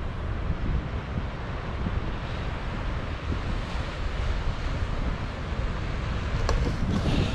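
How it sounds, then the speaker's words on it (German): Sea waves roll onto the wild west coast of Ireland as a steady, broad roar of surf, with heavy wind buffeting the microphone and no voices throughout. "Meer."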